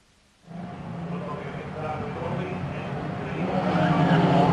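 A pack of HQ Holden race cars at Pukekohe roars off the start, engine drone rising suddenly from near silence and building steadily louder as they race away, with a commentator's voice running over the noise.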